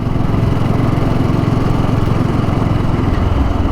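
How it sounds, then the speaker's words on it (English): An Audi S3 car howling past, a loud, steady engine drone with a dense low rumble that holds strongly for several seconds without a break. "howling past me was an Audi S3"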